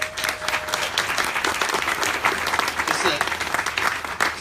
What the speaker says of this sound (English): Of course, Paul, if you could give Paul a round of applause there.